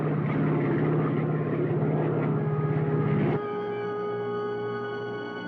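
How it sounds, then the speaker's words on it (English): Propeller aircraft engine drone losing altitude, a steady loud mechanical hum with a throbbing pulse that cuts to a smoother, quieter tonal whine partway through, with no talk. "Janice, we're losing altitude."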